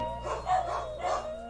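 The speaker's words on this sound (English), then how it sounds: "Sorry about my dogs in the background" Dogs bark a few times in the background, muffled and fairly faint, in short bursts.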